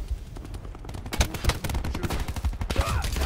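Rapid gunfire from the Black Ops 4 video game, a steady stream of sharp shots with heavy recoil, mixed with explosions and game noise over a few seconds.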